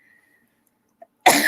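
One sudden, loud, harsh cough bursts out close by after near silence and a faint click.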